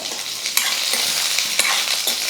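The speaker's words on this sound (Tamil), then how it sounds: "ஒரு நிமிஷத்துக்கு வந்து எண்ணெயிலே காய் நல்லா வதங்கட்டும்" Raw papaya pieces and curry leaves sauté in hot oil in a Tamil home kitchen, giving a steady dense sizzle with a few louder stirring scrapes and spatula knocks, close and continuous with no talking.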